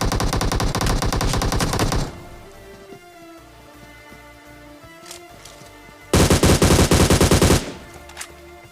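Automatic gunfire in a solo-versus-squad battle royale video game, with two loud sustained bursts of rapid shots at the start and again near the end, separated by quieter in-game ambience with scattered distant pops.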